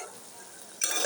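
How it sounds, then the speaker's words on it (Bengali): Spices, including a teaspoon of ground coriander, are stirred in a pan for a potato and pointed gourd curry, with a faint low hiss that turns to a louder sizzle and scrape partway through. Nobody speaks. "ধনিয়ার গুঁড়ো 1 চা চামচ, ভালোভাবে নেড়ে নেব।"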